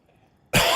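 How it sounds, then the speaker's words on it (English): A single sudden, harsh cough bursts out close to the microphone after a quiet moment, loud and broadband. "Apologies for coughing."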